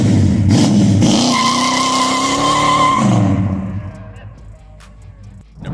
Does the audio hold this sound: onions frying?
no